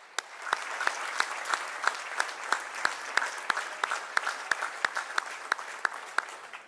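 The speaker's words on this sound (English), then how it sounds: "a big round of applause and a standing ovation for O Suzuki-san" A large audience at a corporate silver jubilee event gives a round of applause and standing ovation for Suzuki-san, with steady, dense clapping and sharp individual claps standing out throughout.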